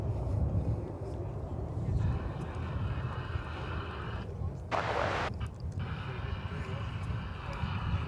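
An Airbus A350-1000 arriving at Dallas/Fort Worth Airport produces a distant, steady jet roar with wind noise, interrupted briefly by a short burst of broadband noise midway.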